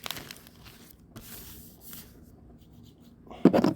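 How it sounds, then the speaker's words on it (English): Soft paper rustling and sliding, ending in a sharper crinkling flip of a Bible page close by, with no talking. "turning page here"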